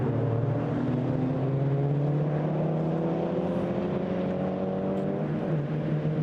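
Volkswagen Racing Cup race cars at Spa-Francorchamps, a pack of engines droning loudly together with steady layered pitches that slowly shift as the field streams past, continuous with no talk.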